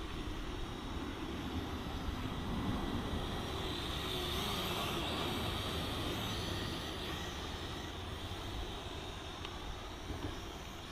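A JDRC JD20 small drone flies outdoors in wind, giving a steady broadband whirring buzz that stays fairly faint and even throughout, mixed with wind noise and no talking.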